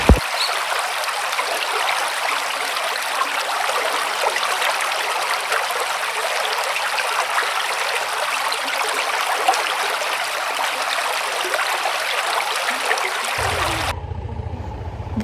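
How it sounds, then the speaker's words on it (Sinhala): Small waterfalls and streams rush beside a hill road near Belihul Oya in Sri Lanka, a loud, steady roar of flowing, splashing water that cuts off abruptly near the end. "මේක නම් දිය ඇලි පාරාදීසියක් යාළුවනේ"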